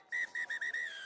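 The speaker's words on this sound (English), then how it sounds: "And that is the final whistle." A referee's final whistle at a match: a series of short shrill blasts followed by one longer trailing blast, clear and alone with no talk.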